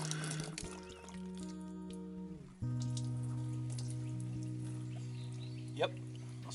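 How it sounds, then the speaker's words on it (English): Rainwater from a trough pours into a water bottle on a woodland hike along Offa's Dyke. A gentle trickle carries a ringing hollow tone that shifts in pitch as the bottle fills. "Filled my bottle right up."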